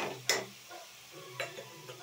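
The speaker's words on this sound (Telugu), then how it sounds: "పచ్చివాసన పోయే వరకు వేయించుకోవాలి" Beetroot and carrot fried in a pan for halwa, stirred with a spoon: a few sharp close scrapes and clinks stand out over a quiet low sizzle, with no voices.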